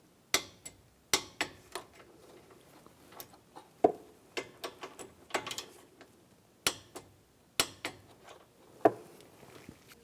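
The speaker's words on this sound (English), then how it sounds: "Now we're going to torque these to 14 foot-pounds." Torque wrench tightening AC condenser bolts to spec on a 2009-2013 BMW 328i xDrive: sharp metallic clicks and taps at irregular intervals, close and clear over quiet background, with no talking.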